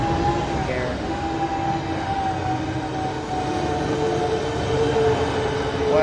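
A Class 375 electric multiple unit in the Train Sim World 3 video game rolls past with steady rail rumble and a sustained motor whine, continuous and fairly loud throughout.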